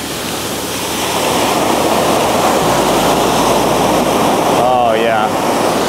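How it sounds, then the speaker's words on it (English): Ocean waves breaking on a Maui beach, a loud continuous roar of surf that swells into a bigger crash, with a brief voice partway through. "Ooh, big wave."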